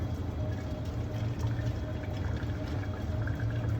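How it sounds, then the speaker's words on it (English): A steady rush of water and boiled potatoes pouring and splashing into a sink, continuous and fairly close, with a low rumble underneath. "you'll pour them into the sink"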